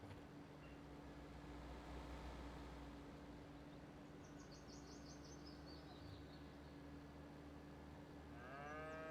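Highland cows in the Farming Simulator 25 video game give low, steady lowing under a constant farm ambience hum, with faint bird calls drifting in midway and a brief higher tonal cry near the end.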